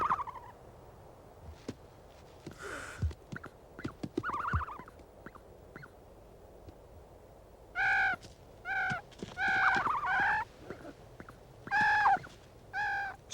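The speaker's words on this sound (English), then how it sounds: "They want to record the sound of the chicks." Repeated squeaky, harsh calls of chicks at a nest on the Skeleton Coast, in short bursts, rising and falling, close by, interspersed with scattered rustles and clicks.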